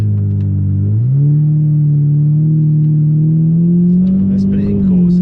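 A Lamborghini Murcielago LP670-4 SV in Corsa mode, held in first gear, gives a loud, close engine note that steps up in pitch after the first second, then holds a strong, steady rising rev before easing back.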